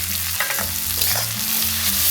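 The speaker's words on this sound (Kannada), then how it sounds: "ಈಗ ಇದರ ಜೊತೆಗೆ ನಾವು ಶುಂಠಿ ಬೆಳ್ಳುಳ್ಳಿ ಪೇಸ್ಟ್ ಕೂಡ ಹಾಕೊಂಬೋಣ." Onions frying in a pan with ginger garlic paste for chilli chicken, a steady close sizzle with soft stirring scrapes throughout.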